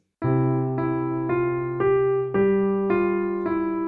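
Piano plays Ode to Joy as a simple, steady melody in the right hand over held low bass notes in the left, one note at a time at an even pace.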